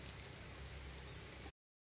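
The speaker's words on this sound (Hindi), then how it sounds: "अभी बहुत ज्यादा तेज बारिश होने लगा" Heavy rain pours down steadily outdoors, a dense, constant broadband hiss that cuts off abruptly after about a second and a half, leaving silence.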